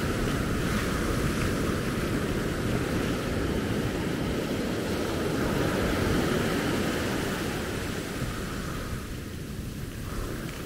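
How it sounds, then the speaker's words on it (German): Ocean surf rolling onto the shore at Maspalomas, Gran Canaria, a steady broadband wash of breaking waves mixed with wind noise, loud and continuous throughout without any talk. "Schaut euch an, wie schön die Wellen wieder sind heute."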